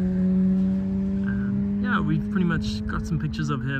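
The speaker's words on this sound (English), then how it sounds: "Sorry for the noise, I'm right by a busy road." Steady traffic rumble from a nearby busy road runs as a continuous low drone through the clip, under someone talking close to the microphone while handling a small Karoo sand snake outdoors.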